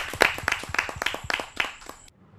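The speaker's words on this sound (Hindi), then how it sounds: "आप सबकी जोरदार तालियां।" At a Hindi poetry gathering (kavi sammelan), a small audience claps to welcome a poet with a handful of sharp, close claps in a loose rhythm, about seven strikes, before it falls quiet.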